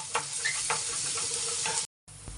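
Whole wheat dosa masala vegetables sizzle steadily in a hot pan while a spoon stirs them in regular scraping strokes. The sound is close and continuous, with a short break near the end.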